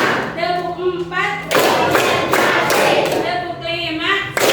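A group claps in rhythm during a classroom counting chant, with sharp bursts of clapping that alternate with stretches of voices chanting aloud.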